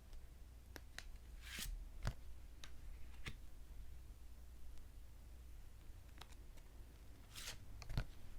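Tarot cards being shuffled and drawn during a love-fortune tarot reading, heard as quiet, close, sporadic crisp flicks and snaps of card stock spread across a soft hiss.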